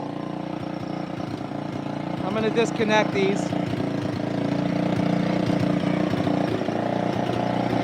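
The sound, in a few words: Big Red engine idling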